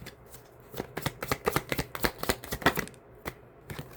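A deck of tarot cards is shuffled close by, with a quick irregular run of soft slaps and riffles that gets denser midway, then a few last taps. No one speaks.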